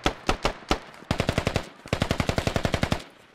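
Bursts of AK rifle fire in the video game Squad: a few spaced single shots, then two fast rhythmic automatic strings, loud and close, with no talking.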